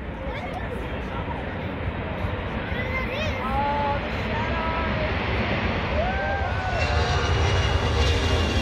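Propeller airplane drones steadily overhead while circling above a town, its engine hum growing slightly louder toward the end as a gathered crowd chatters and calls out underneath.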